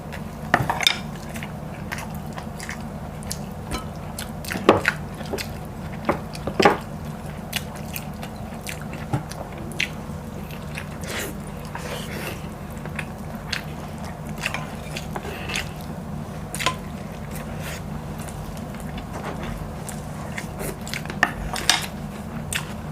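Chewing sautéed mung beans and crispy fried fish head at close range, with soft mouth clicks and crunchy bites over a steady low hum, and a few sharper crackles scattered through.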